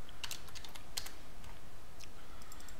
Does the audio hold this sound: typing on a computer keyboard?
yes